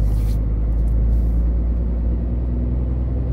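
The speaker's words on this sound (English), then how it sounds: "voziš naranđastog žutog Renaulta T, ide gas" Orange-yellow Renault T truck accelerating, a loud steady low engine rumble heard from inside the cab, continuous and unbroken.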